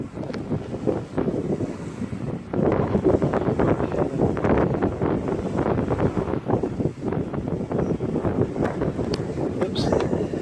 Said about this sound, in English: Wow, it's really windy. Forgive me for the loud wind.